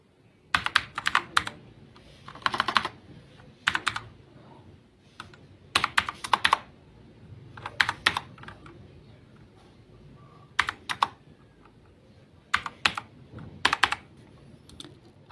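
Bursts of keystrokes on a computer keyboard as an account number is entered, short clusters of quick clicks separated by pauses, close and clear with no talking.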